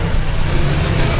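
Dense, steady road traffic noise on a busy roadway, a continuous loud low rumble of vehicles with no clear gaps.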